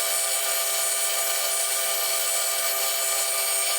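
A lathe faces off the end of a brass piece held in a 16mm collet, giving a steady, bright, high-pitched cutting hiss close up with no pauses.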